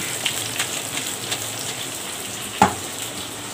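Soft, steady sizzling of vegetables sautéing in a pan, with a few light clicks and one sharper knock of a utensil, no voices.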